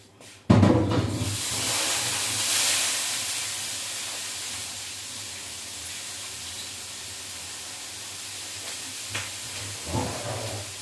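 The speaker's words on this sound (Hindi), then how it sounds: "ये तेल जो है ये हम थोड़ा सा गिरा देंगे" Oil hits a hot griddle with a sudden loud sizzle that settles into a steady, broad hiss for the rest of the clip.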